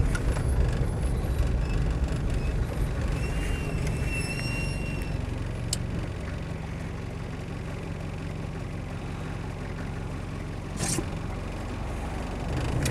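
A diesel Land Rover 90 2.5D hardtop trundles along at a steady pace, its broad engine rumble and road noise continuous and fairly loud from start to finish, with a brief sharp hiss partway through.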